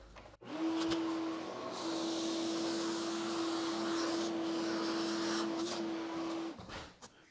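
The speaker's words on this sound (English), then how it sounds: "I'm going to vacuum up my ballast here" A vacuum cleaner sucking up model railway ballast whines steadily at close range for several seconds with a high, constant tone and rattling hiss, then switches off.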